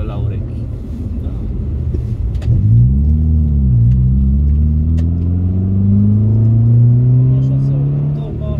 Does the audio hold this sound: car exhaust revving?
yes